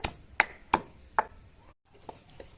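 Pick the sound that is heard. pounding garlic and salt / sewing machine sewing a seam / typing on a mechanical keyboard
pounding garlic and salt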